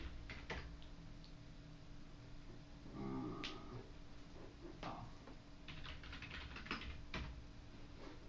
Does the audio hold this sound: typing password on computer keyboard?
yes